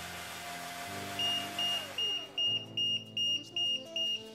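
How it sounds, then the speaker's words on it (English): Low-voltage alarm on a cordless drill converted to run on laptop batteries beeps in a steady, evenly spaced series of about eight short high beeps, over a low mechanical hum and rumble. "That beeping is telling me to charge the battery"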